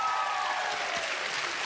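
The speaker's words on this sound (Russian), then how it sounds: "Вам нравятся зрительские аплодисменты?" Studio audience applause on the Russian TV game show Ugadai Melodiyu, a dense burst of many hands clapping at once, loud and continuous over the short stretch.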